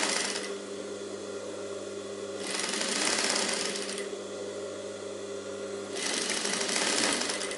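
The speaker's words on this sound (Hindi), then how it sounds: "तो ऐसे पूरे में सिलाई लगा देनी है।" A sewing machine stitches a high neck blouse in two steady bursts of fast, even whirring and clatter separated by brief pauses, close and moderately quiet, with no talking.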